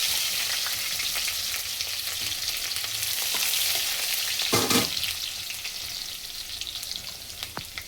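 Cumin seeds and garlic crackle and sizzle steadily in hot oil in a home kitchen pan, a continuous bright frying hiss with small pops and a brief louder spit midway.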